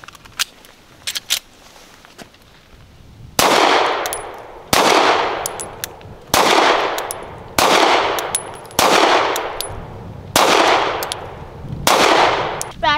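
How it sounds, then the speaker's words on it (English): Pistol shots from a SIG P365XL fired at a range, seven sharp loud reports spaced about a second and a half apart, each with a ringing decay, after some quieter handling noises. "now I'm gonna try to shoot my SIG so I can do a comparison on how I feel about the two"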